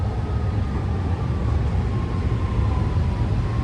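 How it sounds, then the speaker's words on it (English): Steady rumbling roar of a BART train riding near Fruitvale Station, loud and continuous with a deep low-end drone and a faint tonal whine, no talking. "No, that was a blue line, San Francisco Daly City bound train"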